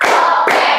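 Two quick hand claps in a row in a classroom, sharp and close, the second following about half a second after the first.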